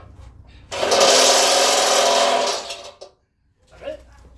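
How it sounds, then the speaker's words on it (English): A loud, steady whirring drone of a power drill drilling runs for about two seconds, then winds down, with brief voices before and after. "Drilling."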